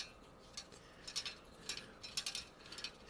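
A tubing cutter turned slowly around a metal brake line gives faint, quiet ratcheting clicks and small scraping ticks in short uneven bursts, close up with no talk.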